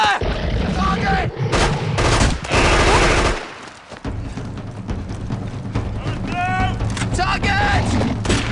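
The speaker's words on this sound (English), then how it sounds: "the guns come out, and it is cinematic magic" Gunfire bursts in a sci-fi horror werewolf film, loud rapid shots mixed with shouted military commands and dramatic score, the shooting dense and continuous across the scene.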